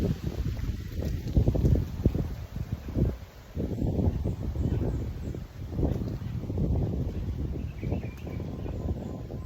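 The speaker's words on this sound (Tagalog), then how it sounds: "Kalit ng kusog ang hangin." Steady wind rushes and buffets outdoors, a constant low roar with gusts throughout.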